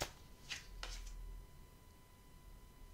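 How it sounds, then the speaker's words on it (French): A tarot card drawn from the deck, giving a couple of quick papery swipes and riffles close up near the start, then quiet room tone. "Je vais prendre une dernière carte de mon Béline."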